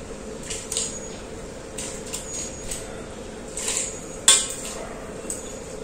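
Cauliflower and beans tipped into a cooking pot while making khichuri, giving quiet scattered clinks and light clatter of utensil on metal, with one sharper knock near the end over a low background hiss.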